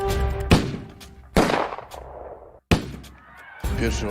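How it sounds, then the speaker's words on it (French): Three sharp gunshots crack out at uneven intervals, each ringing off briefly, over the steady murmur of a large outdoor crowd. "Soudain, 3 coups de feu."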